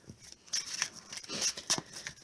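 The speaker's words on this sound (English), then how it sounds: "Okay, shuffle." Crisp riffling and snapping of Magic: The Gathering cards being shuffled in quick bursts, close up and quiet, with no talking.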